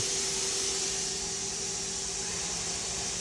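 The spindle of a 2017 Fanuc Robodrill a-D21L-iB5 CNC drilling and tapping center runs at high speed, giving a steady, moderate whine with a constant hiss and an even pitch.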